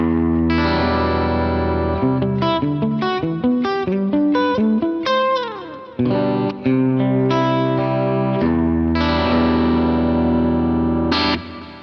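Clean electric guitar played through a Line 6 POD modeler with delay and speaker emulation, a melodic run of notes and chords sounding close and steady with echoing repeats trailing each phrase.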